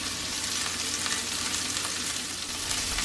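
Burger patties seasoned with kosher salt and black pepper sizzle steadily in a pan, a constant close crackle of frying fat without pause.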